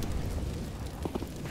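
An incendiary grenade burns in a video game with a dense, roaring crackle of fire that fills the whole clip at a steady level, with a few brief flickers near the end.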